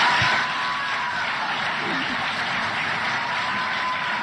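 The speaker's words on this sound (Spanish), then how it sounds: "Ovación, ¿eh?" An audience breaks into ovation applause at a Chilean political talk event, with steady, dense clapping that fills the whole stretch at close range.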